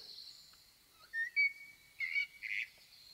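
A blackbird sings a short run of clear, fluty whistled phrases, three or four bright bursts over a faint background hiss, with no voices.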